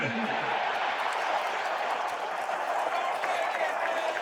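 Dense, continuous crowd roar from a large stadium audience in the College Football 26 video game, steady and fairly loud throughout.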